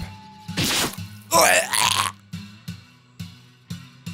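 Stabbing effect in The House in Fata Morgana visual novel, a sharp wet impact burst followed by a harsher tearing strike, then a run of softer repeated thuds over a low steady musical drone.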